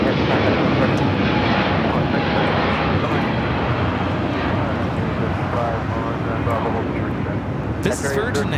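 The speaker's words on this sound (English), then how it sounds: "This is Virgin Atlantic Flight 8 taking off to London Heathrow on the A350 1000" A Virgin Atlantic Airbus A350-1000 jet takes off from LAX, bound for London Heathrow. Its loud, continuous engine roar fills the whole stretch, with some wind buffeting the microphone.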